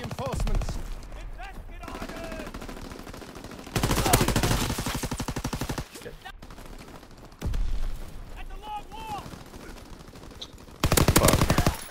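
Machine gun fire in Call of Duty: WWII, bursts of rapid dense shots in three loud stretches, close up, separated by quieter game sounds and a player's voice.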